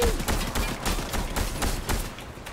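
Rapid video game gunfire crackles in quick bursts of sharp, loud shots, a fast irregular stream of reports close by with no speech over it.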